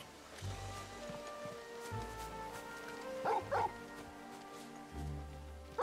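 In the video game Final Fantasy XVI a dog barks several times in short separate bursts, with soft in-game ambience and music between the barks.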